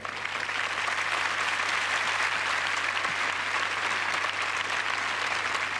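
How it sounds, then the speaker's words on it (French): Sustained applause from a studio audience at a televised French interview, dense and steady clapping filling the whole stretch with no talk over it. "On peut applaudir Rémi Julienne encore."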